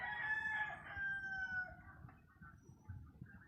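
A large rooster crows once, a long drawn-out call that fades away, set against a faint rustling background.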